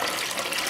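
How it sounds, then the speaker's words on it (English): Top-loading clothes washer filling with water for a super-size large load, a steady, full-band gush of running water throughout, close and continuous with no talking. "Okay, the water level is almost to the top."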